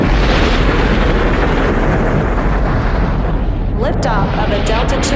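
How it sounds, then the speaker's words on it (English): A Delta II rocket carrying the Deep Impact spacecraft lifts off with a loud, continuous, rumbling roar that holds steady throughout, with a faint voice breaking through near the end. "Liftoff of a Delta II rocket carrying Deep Impact"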